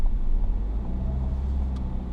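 A car engine holds a steady, raised low rumble while the gas is set for a hill start without the handbrake, heard up close with no talking.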